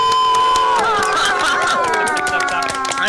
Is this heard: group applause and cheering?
yes